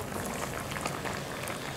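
Ghee sizzling in a pan for a garlic and ginger tadka for daal, a steady dense crackle and hiss that stays close and even throughout with no talking.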